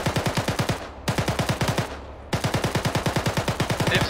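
Rapid automatic gunfire in ArmA 3 comes in three loud, sustained bursts with brief gaps between them. The rounds are close and evenly spaced at a fast steady rhythm.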